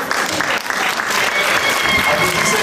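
Warm audience applause at a church Christmas party, a dense steady clapping throughout with a voice speaking over it.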